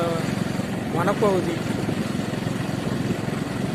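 Vehicle carrying three people along a forest road between Tiruchi and Thachankurichi, a steady mid-pitched engine drone up close, with a brief voice partway through.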